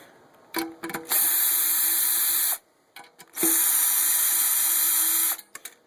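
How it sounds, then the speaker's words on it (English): Power driver backing screws out of the metal case of a GE electric relay being scrapped: two close, steady whirring runs of about one and two seconds, with small clicks and handling noise between them. "So then you just remove the screws, and there's one here on each side."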